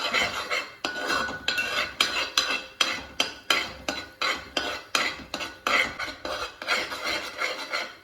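A spoon scrapes briskly around a pan of onion masala with half a teaspoon of turmeric powder for chicken varattiyathu, making about twenty close, rhythmic metallic strokes over a faint sizzle.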